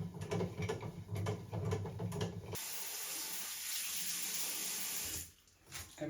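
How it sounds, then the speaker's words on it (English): A tap running into a sink while film developing equipment is rinsed, first spattering with rhythmic splashes of items moved under the stream, then a steady loud gush that cuts off near the end. "I'm also thoroughly rinsing all of the stuff while I'm working with it"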